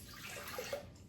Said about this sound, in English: we're gonna start with 3/4 of a cup of warm water.